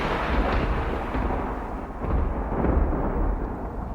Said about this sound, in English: a massive crack of thunder and a blinding flash of lightning